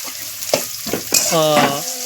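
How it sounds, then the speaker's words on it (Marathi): Onions sizzle in hot oil with turmeric while a utensil scrapes and stirs the pan in quick strokes, with a short squeaky tone near the end. "कांदा हे सगळा असा परतवून घेणार आपण"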